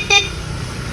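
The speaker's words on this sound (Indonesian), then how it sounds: "Ini klakson" A Honda Scoopy scooter horn gives one short, bright beep near the start, close and loud, then fades into quiet low background hum.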